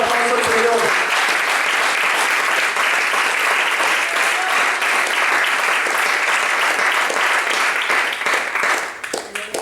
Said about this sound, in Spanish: Que le damos el fuerte aplauso al Señor.